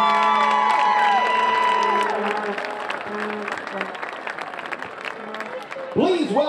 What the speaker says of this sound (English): Please give a round of applause to your 2015 St. Thomas Aquinas Homecoming Court.